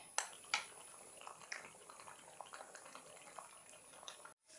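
Jackfruit halwa cooking with coconut milk in a pan, boiling with scattered soft bubbling pops and a few sharper spatters at the start, steady and close without any voices.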